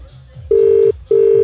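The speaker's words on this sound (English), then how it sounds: "Oh, it's ringing." Telephone ringback tone on an outgoing call, two long steady tones separated by a short pause, loud and close, with faint background murmur underneath.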